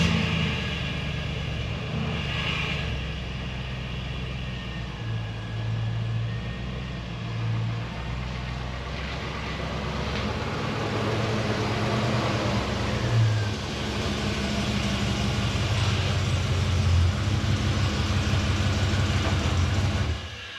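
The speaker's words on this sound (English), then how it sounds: "Let's pull in the truck." A 2002 Chevy Silverado pickup with a 5.3 V8 rolls in with its engine running, a steady mid-pitched idle and low rumble that swells slightly as it moves closer, no talking.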